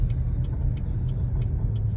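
Steady low engine and road rumble from inside a car driving through town, with a faint regular ticking, like a turn signal, running throughout; no talk.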